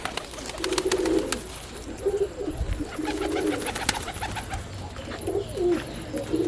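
Pigeons coo in low, rounded phrases that repeat several times over a constant background hiss, with faint scattered chirps and no voices.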